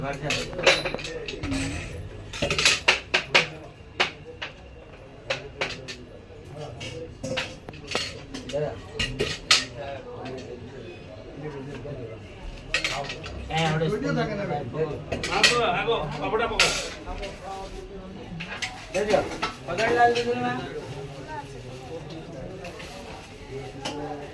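A spoon clinks and scrapes against dishes in a home kitchen, with irregular bright taps and rattles scattered throughout as people talk over it for much of the time.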